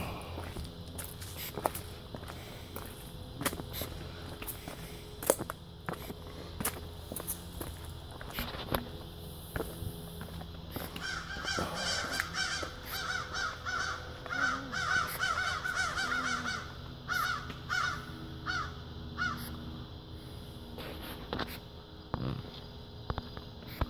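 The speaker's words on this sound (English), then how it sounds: "Yo, crows." Crows caw by a river, repeated sharp calls near and far, mixed with footsteps crunching along the ground and faint outdoor ambience.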